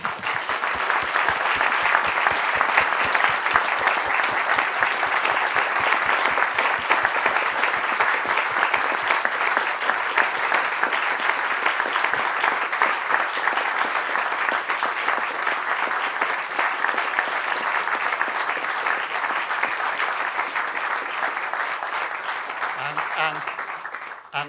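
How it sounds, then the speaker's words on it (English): Sustained audience applause as a gesture of solidarity, dense even clapping from a full room that holds steady for over twenty seconds before fading out at the very end. "just wanted to ask the audience to clap for the work that you're doing and to show their solidarity for your future"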